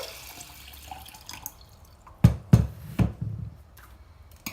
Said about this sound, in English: So then I fill up with some water.